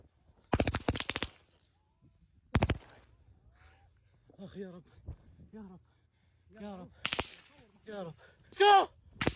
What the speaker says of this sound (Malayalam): ഖാൻ യൂനിസിൽ നിന്ന് തുരുതുരാ വെടി